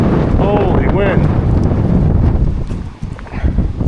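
Strong gusts buffet the microphone outdoors beside an old Peterbilt truck frame, a loud continuous low rumble that eases slightly near the end, with faint voices mixed in.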